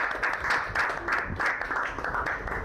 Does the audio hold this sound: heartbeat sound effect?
no